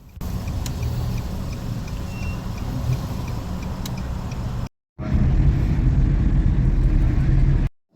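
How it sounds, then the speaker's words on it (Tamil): Heavy road traffic on Safari Road in Dubai around 1 a.m., with a continuous rumble of passing cars and trucks close by, broken by a brief cut partway through. "ஆனாலும் அந்த சஃபாரி ரோட்டில் எவ்வளோ டிராஃபிக் பாருங்கள்."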